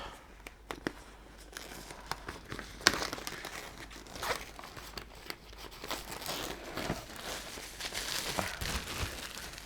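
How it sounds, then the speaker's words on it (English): Cellophane wrap is peeled and crumpled off an Army Painter wet palette box, giving close, continuous crinkling and tearing with sharp crackles, heard alone without talk. "So I'm going to take this cellophane off."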